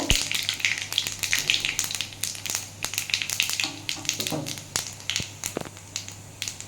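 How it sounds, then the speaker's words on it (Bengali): Dried chilli and cumin crackle and sizzle in hot oil, with sharp pops scattered over a steady low hum. "একটু শুকনো লঙ্কা একটু সাদা জিরে দিয়ে দিলাম যে বন্ধুরা ফোড়নটাই ভালো করে একটু ভেজে নেব"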